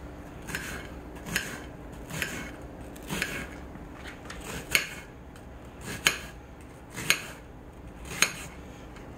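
A knife slicing through an onion on a cutting board for tacos, eight or nine crisp cuts at a steady, unhurried rhythm, close and clear with quiet gaps between strokes.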